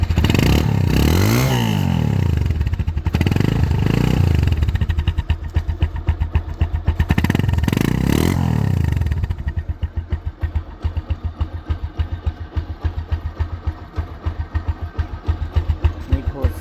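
A motorcycle engine starts and revs, with loud surging rev bursts and then settling into a steady, close, rhythmic idle.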